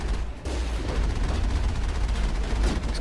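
A vehicle-mounted turret in the game Mass Effect fires a steady, dense stream of shots with a deep low rumble. The burst runs loud and continuous after a brief gap near the start.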